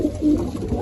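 A teddy pigeon coos in low, throaty pulses at close range, a soft continuous burble that runs through the whole short stretch.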